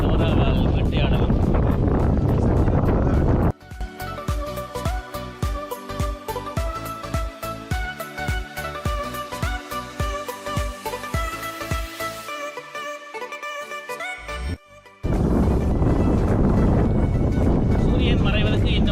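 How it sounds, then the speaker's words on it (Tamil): Strong wind buffets the microphone during a canoe trip on the water at Akkaraippattu, a loud roaring rush at the start and end, with a middle stretch where other steady sound takes over. "அந்த வீடியோவில் காற்று நாலாபுரமும் அடித்துக் கொண்டிருக்கின்றது"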